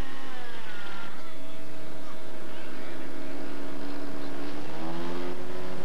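Engine of a radio-controlled scale model Spitfire taxiing at ground level during a 1993 scale masters demonstration, a steady droning whine with shifting harmonics that rises and falls slightly, held throughout at moderate loudness.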